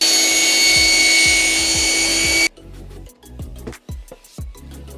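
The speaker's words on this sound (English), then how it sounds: "So I've decided to redo them on the track saw on the workbench" A track saw cuts miters in wood on a workbench: a loud continuous cutting whine for about two and a half seconds, then stops, followed by scattered knocks and clatter of handling the workpiece.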